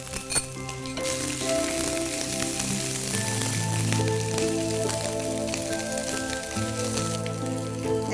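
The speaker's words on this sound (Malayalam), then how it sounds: "അതെ, കടുക് പൊട്ടി തുടങ്ങി." Mustard seeds splutter in hot oil while pickle is being made, a dense crackling sizzle with scattered sharp pops, fairly quiet and continuous beneath sustained background music.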